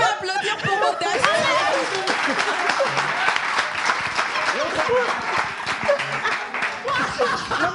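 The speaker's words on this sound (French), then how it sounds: "Est-ce qu'on peut applaudir pour Modeste?" Audience applauding for Modeste, dense continuous clapping mixed with chatter and some laughter and voices, loud and busy throughout.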